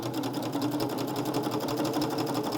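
A serger with decorative thread in the lower looper stitches a backpack strap, giving a close, steady, rapid mechanical whir throughout.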